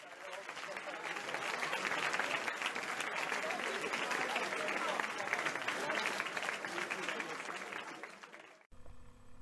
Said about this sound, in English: Mario, ladies and gentlemen, give us a round of applause